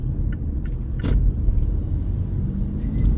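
A car being driven at night on the streets of Merida, heard from inside as a steady low engine and road rumble with a few light rattles and ticks, fairly loud and without talk.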